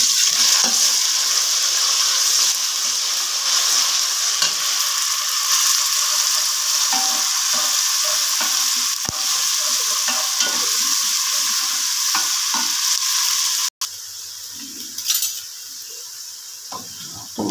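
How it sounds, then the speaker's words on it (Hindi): Garlic and ginger hit a pan of browned onions, sizzling and frying steadily with a spoon stirring and scraping against the pot, the crackle continuing close and loud throughout. "अब मैंने ना जल्दी से लहसुन अदरक डाल देना है दोनों में।"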